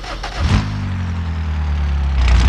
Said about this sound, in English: The engine still runs after a 160-mile-an-hour crash